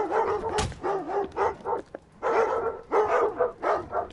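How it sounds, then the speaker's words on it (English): A dog barks repeatedly in the stealth video game Thief, in a run of loud, close yelps and woofs with short gaps between them. "Shut up, you noisy dog."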